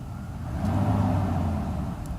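The engine of a Mercedes S600 W140 with newly overhauled throttle bodies swells into a loud, low, rising roar as it accelerates, holding a deep steady drone before easing slightly.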